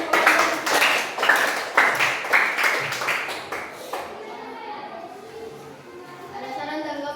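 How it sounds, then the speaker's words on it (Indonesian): A school class claps together in a quick rhythmic pattern of loud, sharp claps, then fades into quiet murmuring and children's voices. "Kita berikan tepuk masyarakat."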